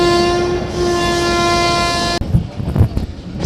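Pakistan Railway Miyanwali Express night train sounds a long, loud steady horn blast over the running rumble, then the horn cuts off, leaving rattling, clattering wheels and carriage noise.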